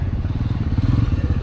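Stock exhaust on a Honda CB300 motorcycle idling close by, a steady low pulsing burble with a faint rattly texture throughout.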